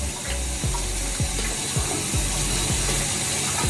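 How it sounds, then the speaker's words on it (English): A tap runs water onto a shirt to soak it for bleach tie-dye, a steady close splash with small irregular thumps as the fabric shifts. "So you're gonna turn on your tap and you're gonna wet the shirt"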